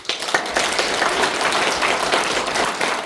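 A lecture audience at a Gangnam economic forum breaks into dense, sustained applause, a loud, even roar of many hands clapping together that holds steady for several seconds.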